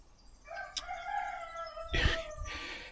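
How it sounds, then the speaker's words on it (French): A countryside rooster crows once in a long, drawn-out call at moderate distance, followed by a burst of nearby rustling and clatter. "On entend le coq, je pense."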